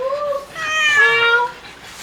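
A cat meows in a long, drawn-out call, rising and wavering, loud and close, preceded by a couple of shorter mews.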